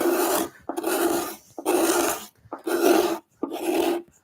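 A file rasps across the edge of a steel cabinet scraper in five steady, evenly spaced strokes, each one a loud, close, gritty scrape followed by a short pause.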